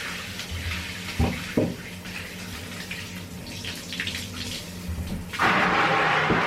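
Tap water runs onto a screen-printing screen as it is rinsed at home, a steady splashing stream with a few brief knocks early on and a louder, fuller gush near the end.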